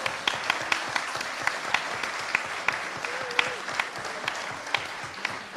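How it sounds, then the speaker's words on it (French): Audience applause in a Geneva conference hall at the Swiss Press Club, steady clapping with a few sharp, distinct claps standing out, moderately distant and continuous. "Un tonnerre d'applaudissements pour eux"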